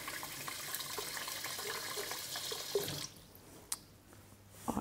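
Tap water runs steadily into a bowl in a home kitchen while rye bread is being made, then stops, leaving a few faint drips and clinks in the quiet.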